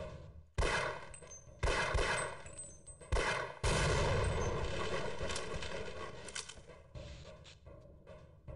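Pistol gunshots in the first-person shooter Half-Life: several sharp, loud shots fired at uneven intervals, each followed by a ringing, echoing tail and a continuous background game drone.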